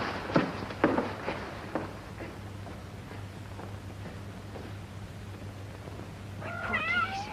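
Several cats meow softly indoors in an old house, faint cries over a steady low hum, with a clearer, rising meow near the end.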